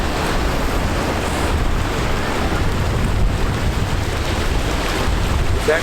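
Steady rush of surf washing onto the sand at Cannon Beach, broad and continuous, with wind buffeting the microphone throughout.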